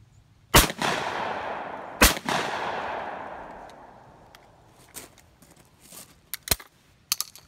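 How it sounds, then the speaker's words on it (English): Two loud shotgun shots from a Browning Citori 425 fired outdoors into woods, about a second and a half apart, each ringing out with a long echoing tail, followed by faint scattered clicks and handling noises. "I'm gonna shoot the gun twice and then we'll break it apart."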